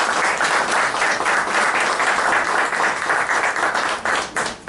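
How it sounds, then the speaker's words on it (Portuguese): Sustained, dense applause from an audience at a Lions Club study session, loud and steady for the whole stretch with no speech over it. "Então, salva de palmas para ele."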